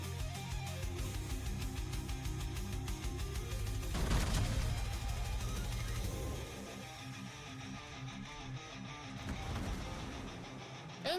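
Rapid bursts of video game gunfire rattle continuously, with a louder blast partway through and dense action noise throughout.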